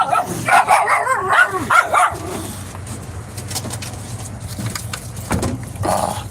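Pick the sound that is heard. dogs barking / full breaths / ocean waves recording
dogs barking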